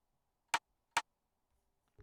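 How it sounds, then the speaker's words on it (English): Two crisp rim percussion hits in a hard trap beat, spaced about half a second apart, dry and isolated, followed by the start of a lower sound at the very end. "Just a rim perk."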